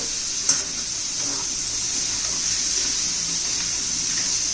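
Peeled potato pieces being sautéed in masala, with a steady, even hiss of frying, a single knock early on, and no talking.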